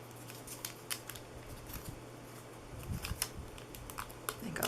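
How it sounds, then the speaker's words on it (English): Scissors snipping craft paper nearby in a handful of quick crisp cuts, over a steady low hum and light handling noise. "I'll snip these"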